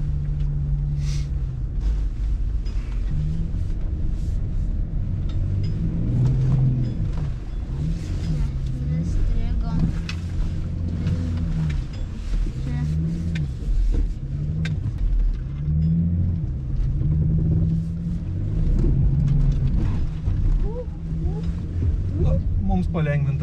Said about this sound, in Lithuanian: O dabar mūsų eilė važiuoti per purų smėlį.